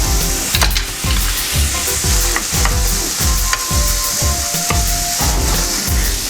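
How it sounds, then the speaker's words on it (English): Onions, ginger and garlic fry in a pan with a bright, constant sizzle, while a spatula scrapes and stirs in a steady rhythm of roughly a dozen strokes, close up and with no voices. "add some onions. You hear that sizzle? That's beautiful."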